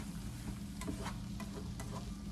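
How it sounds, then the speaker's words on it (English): Vegetables for garden succotash sauté in a pan, giving a quiet, steady sizzle with a low rumble underneath and a few soft clicks of stirring. No one talks. "I'm going to saute this for a minute"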